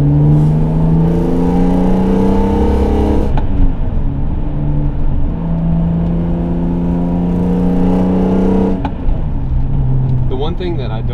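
A BMW M3 accelerates hard while driving, engine pitch climbing through gears with brief shift breaks, loud and close from inside the car, with someone talking over it.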